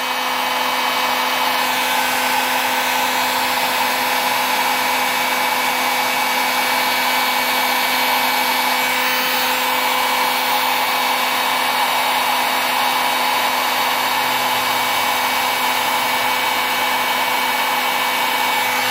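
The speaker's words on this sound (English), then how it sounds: "I only got a heat gun from Harbor Freight" A Harbor Freight heat gun running on its highest setting to shrink heat-shrink tubing onto a cable, giving a steady, close, continuous fan-and-air roar with a constant hum that runs unbroken the whole time and no talking.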